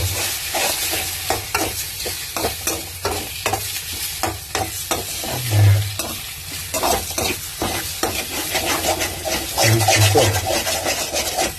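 Drumstick leaves and egg frying in a pan, soft sizzling under rhythmic scraping and stirring strokes from a utensil, close and steady throughout.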